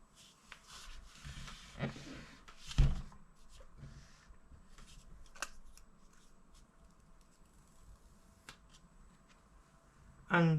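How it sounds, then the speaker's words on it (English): Two stickers peeled off the bottom of a second-generation Apple HomePod in midnight color, heard as a few close, crinkly tearing and rustling bursts with handling noise, followed by a louder clatter at the end. "on the bottom we've got two stickers, so let's just peel those off"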